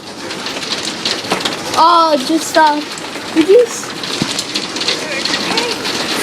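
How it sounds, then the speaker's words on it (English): Hailstorm in Ottawa, Canada, in September 2011, hammering the ground with a steady, dense pattering that fills the whole clip, while brief voices speak in the middle. "No, it's hailing."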